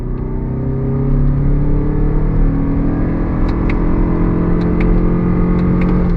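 A 2023 Lexus RX 350h hybrid SUV pulls away from a dead stop under throttle, a smooth rising engine and motor whir with road rumble building steadily, no voices.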